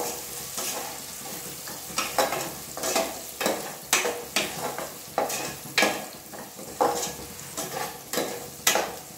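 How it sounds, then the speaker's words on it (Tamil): Ginger, garlic and chili sautéing in a pot on low heat, with a steady sizzle broken by repeated rhythmic stirring scrapes roughly every half second, close and fairly loud, no voices. "அதனால் சிம்மில் வச்சுட்டு இஞ்சி பூண்டு வரைக்கலாம்."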